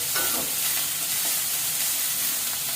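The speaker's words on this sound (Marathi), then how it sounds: "आता हे खूप छान आपण परतवून घेऊया एकत्र" Chopped onions fry and sizzle in hot oil in a pan for a horse gram curry, a steady close hiss with faint stirring scrapes, unbroken and with no talk.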